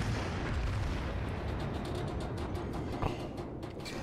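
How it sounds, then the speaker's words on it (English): Battleship main guns in World of Warships boom distantly and faintly under a constant low rumble, with a brief sharper blast standing out near the end. "And I'm just shooting with half my guns."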